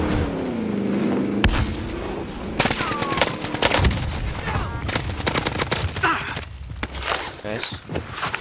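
Gunfire in the video game Modern Warfare Warzone, with dense bursts of rapid shots and heavy booms continuing throughout, some close and loud, while players talk over the action.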